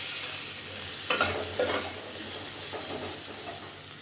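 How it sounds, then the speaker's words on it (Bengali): Potatoes fry in a pan of oil with cumin seeds, dry red chili and bay leaf, giving a steady close hiss and sizzle broken by a few scraping stirs. "জিরে ফোড়ন দিলাম, শুকনো লঙ্কা তেজপাতা দিয়ে আলুগুলো দিয়ে দিচ্ছি। তারপরে লবণ হলুদ দিয়ে খানিকটা ভেজে নেব।"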